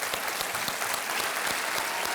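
Studio audience on a TV quiz show bursts into sustained, dense applause to welcome special celebrity guests, a steady wash of clapping throughout with no talk over it.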